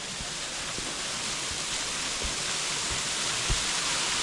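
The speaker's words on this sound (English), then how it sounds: "Waterfall." A waterfall on the Isle of Skye pours in a steady, broad rush of water that stays even and continuous, with a few soft low thuds underneath and no talking.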